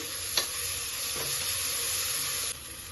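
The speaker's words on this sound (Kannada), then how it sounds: "ಅದನ್ನ ಹಾಕೊಂಡು ಚೆನ್ನಾಗಿ ಫ್ರೈ ಮಾಡಿ." Chopped tomato frying in a pan for methi matar pulav, a continuous bright sizzle with a couple of soft stirring scrapes, close and steady, easing slightly near the end.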